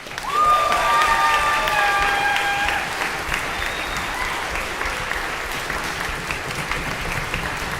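An orchestra concert audience gives sustained applause to graduating seniors. The dense clapping is loudest at first, with a few bright whistle-like tones in the opening seconds, then eases to a steady, slightly softer level.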